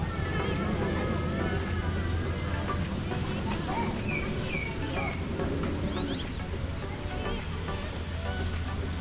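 Birds chirp at Taipei Zoo, short high calls scattered over a busy backdrop of crowd chatter and a steady low hum, with one brief, sharp trill standing out near the end.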